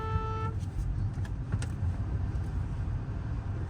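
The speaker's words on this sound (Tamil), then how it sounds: "இப்போ நீங்கள் பார்த்துருப்பீங்க ஆப்போசிட்டில் வந்து வண்டி வந்துட்டுருக்கு." An oncoming vehicle passes a car on an Indian highway, with a short horn toot at the start and then a steady road rumble and passing whoosh, heard from inside the car.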